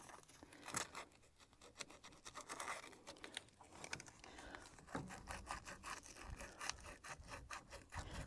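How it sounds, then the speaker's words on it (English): Sandpaper scrubs surface corrosion off a Mahindra tractor's battery post, making close, dry, rasping strokes that repeat in an uneven rhythm with no talking. "A little sandpaper will clean it up good too."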